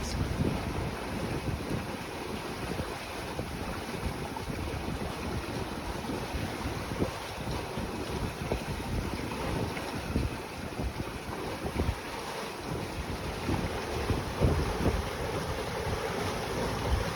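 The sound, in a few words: sailboat sailing with sails up, motor off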